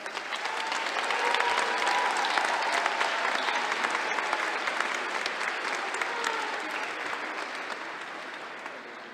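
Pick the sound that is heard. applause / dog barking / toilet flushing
applause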